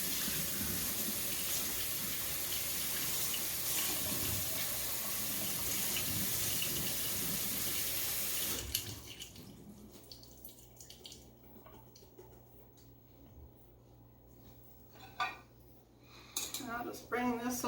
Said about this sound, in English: I'm going to go ahead and rinse these off.